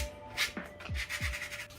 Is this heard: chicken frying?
no